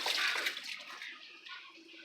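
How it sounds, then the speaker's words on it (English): Tap water running steadily over hands being washed at a kitchen sink while cooking fried fish and zucchini, a close hissing splash that softens slightly after the first half second, with no talk. "I'm going to wash my hands real quick."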